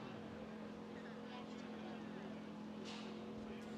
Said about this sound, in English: One of the cars is fired up because we can hear it.